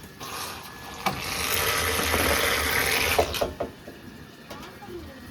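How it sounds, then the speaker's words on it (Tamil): Water gushes from a tap in a strong, steady hiss for a few seconds, then cuts off amid clunks and handling sounds, in a refugee camp in India. "இன்னும் இவ்வளோ வேகமாக வருது தண்ணி"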